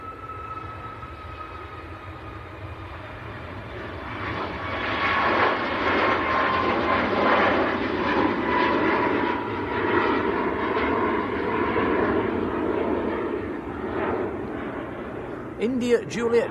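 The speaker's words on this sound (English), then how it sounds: "This is the Ryanair Max to Tenerife." Ryanair Boeing 737 MAX jet at Manchester Airport, engines building from a low rumble into a loud, sustained roar that holds for several seconds before easing, with a voice briefly heard near the end.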